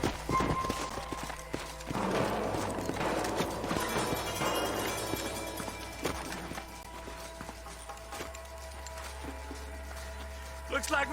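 Horse hooves clip-clop in the Western video game Red Dead Redemption, a quick irregular patter of close hoofbeats mixed with game sound effects that thins out toward the end.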